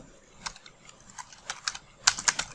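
Rapid clicking keystrokes on a computer keyboard, close and clear, in an uneven run that grows louder toward the end.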